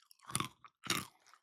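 Sprouted almond nut snacks are crunched in two close, crisp bites with brief chewing crackles between them, heard alone in a quiet room.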